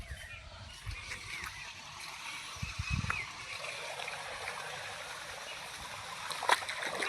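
Water gushing up out of the ground in Mandropur village, a steady rushing, trickling flow with occasional splashes and a few low thumps, heard fairly close.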